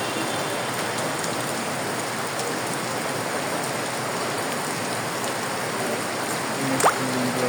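Heavy rain pours steadily over waterlogged, muddy ground in Bangladesh, a dense, even hiss that stays loud and unbroken throughout, with one brief higher chirp near the end.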